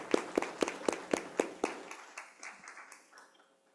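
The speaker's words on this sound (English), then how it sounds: "join me in a very well-deserving round of applause for your effort that you do" Steady rhythmic hand clapping at a school board meeting, about seven crisp claps in even succession, then thinning into scattered fading claps before silence.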